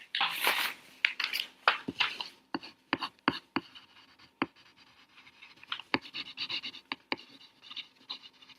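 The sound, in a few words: pen writing on paper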